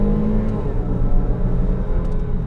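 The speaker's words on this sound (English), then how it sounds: "Revs out quickly." A 2015 full-size Range Rover engine roars steadily at high revs, a continuous close mechanical drone with no talking.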